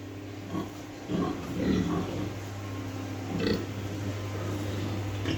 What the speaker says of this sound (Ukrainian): Це вже більшенькі поросята.